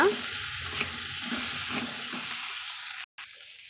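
Sprouted field bean sundal being stirred in a hot pan, soft sizzling under several rhythmic spatula scrapes and clinks, close by, with a brief cutoff near the end and no talking.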